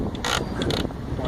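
A ratchet strap is wound tight on a bike rack in two or three quick, loud clicking bursts close to the microphone.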